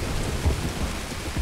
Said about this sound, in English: Oh, the rain's great, dude.